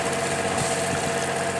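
A sailboat's engine idles while motoring slowly home from Flakfortet, a steady, loud, close drone with a constant rumbling throb and no other sound.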